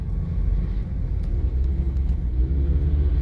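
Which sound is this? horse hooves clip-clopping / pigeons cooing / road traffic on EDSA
road traffic on EDSA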